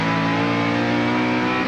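A Porsche 911 race car at the 1997 12 Hours of Sebring, a loud, close, sustained engine roar with a steady pitch throughout.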